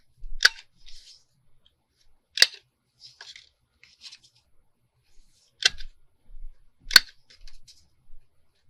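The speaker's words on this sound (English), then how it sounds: "I want to cut these outer corners." Scissors snip the outer corners of tall wardrobe pockets: four sharp, close cuts spaced a second or more apart, with faint rustling of the material between them and no talking.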